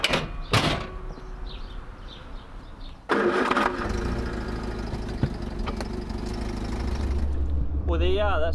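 A Vauxhall Viva's engine cranks and catches about three seconds in, then runs at a steady, fairly loud idle after fresh tappet adjustment, preceded by a door or bonnet clunk and brief talk nearby.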